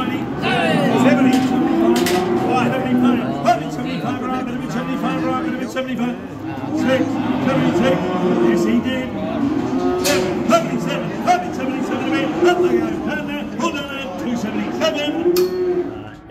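Cattle moo repeatedly at a livestock saleyard, loud overlapping calls from heifers in the pens continuing throughout, with an auctioneer and crowd talking underneath.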